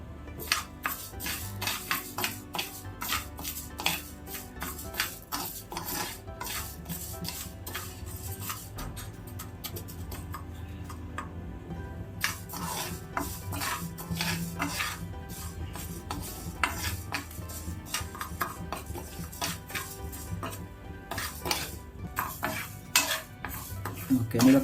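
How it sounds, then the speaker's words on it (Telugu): Moong dal dry roasting in a hot pan with no oil, stirred steadily with a utensil that scrapes and clinks against the metal in a quick, irregular rhythm, close and moderately loud, with no voices. "ముందుగా ప్యాన్ హీట్ చేసుకొని మనం పెసర్లో వేయించుకోవాలండి"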